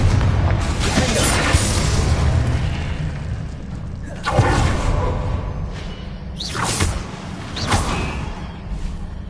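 Repeated booming spell blasts with whooshing bursts from a wizard video game, the Confringo explosion spell firing amid a dense, continuous stream of loud combat effects, heavy impacts recurring every few seconds.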